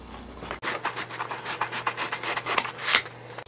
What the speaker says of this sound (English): I'm just cutting it on the outside line right now